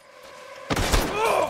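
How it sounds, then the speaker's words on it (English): A single loud gunshot in Red Dead Redemption II bursts out after a quiet stretch, followed by a ringing, echoing tail. "He shot his own teammate."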